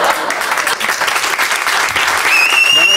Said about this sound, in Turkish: Seyirci, siz durumu nereden bilip de alkışlıyorsunuz?